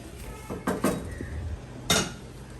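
Metal cooking pots and vessels being set down and handled in a home kitchen while biryani is prepared, a few sharp clanks and knocks at close range, with quiet gaps between them.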